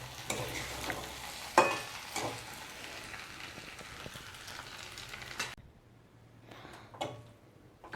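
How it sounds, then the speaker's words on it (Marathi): Pasta being stirred with butter in a pan, spoon scraping and clinking against the metal in steady strokes over a faint sizzle for about five seconds, then a brief pause and a couple of lighter scrapes near the end. "बटर चांगलं मिक्स करून घेऊया"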